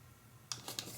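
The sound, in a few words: cutting a sheet of origami paper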